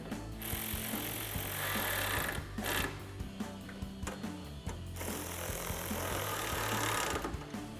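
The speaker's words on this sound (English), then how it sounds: "grab your 10mm socket and tighten them down" A ratchet socket wrench with a 10mm socket tightens tail light bolts on a 2016-2023 Toyota Tacoma during a Raxiom ST LED tail light install. Close, repeated clicking bursts of the pawl run steadily throughout, with brief pauses between strokes.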